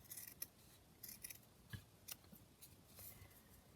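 Scissors make quiet, sharp snips, a handful of separate cuts trimming small fabric scraps into little flags for a craft project, close up and without talking.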